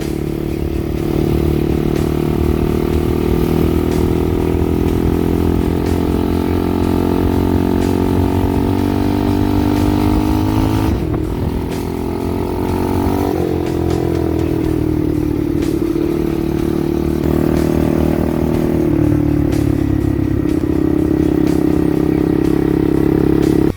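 A mini bike chopper engine runs steadily and loudly up close while being ridden in third gear, a continuous buzzing drone with slight pitch shifts as the throttle changes, and no talking over it.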